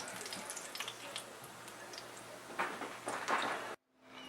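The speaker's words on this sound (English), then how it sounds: "the sushi rice should get a nice flavor from the Polish sausage. And we're just going to stir it up." Polish sausage and sushi rice sizzle and crackle in a frying pan as they are stirred, a close, steady hiss with scraping bursts that cuts off abruptly at the end.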